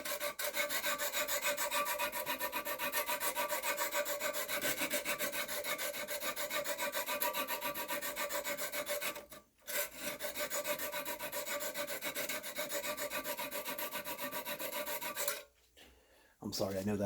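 Knife blade drawn repeatedly across a hone clamped in a Lansky guided sharpening system, a steady close rasping scrape that continues for a long stretch with one brief pause and a short break near the end.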